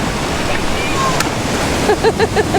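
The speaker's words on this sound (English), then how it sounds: "don't go in too deep because it's quite big waves" Big waves break and wash on a Welsh beach, a loud steady surf roar with some wind noise. Brief voices or calls come in near the end.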